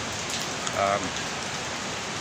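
Steady rain falls outdoors as a soft, continuous hiss with no voices, holding even throughout.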